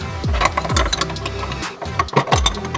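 Ratchet wrench turning an 18mm bolt loose from a seat belt anchor in an Audi B9 S-model, a quick series of close mechanical clicking strokes with brief pauses between bursts.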